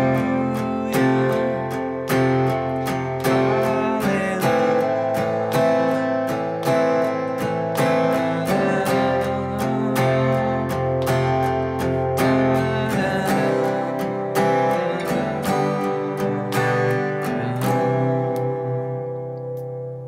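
Guitar playing the chorus of a song, steady strummed and picked chords at moderate volume for the whole stretch, fading slightly at the end, with no voice.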